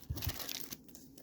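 Scissors cutting open a 1994 Topps baseball card rack pack, producing a quiet, brief burst of crinkling plastic wrapper with a couple of soft thumps at the start, close by and without speech.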